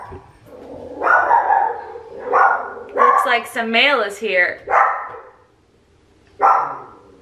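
Dogs bark in short bursts a few times, mid-distance, while a person talks over and between them.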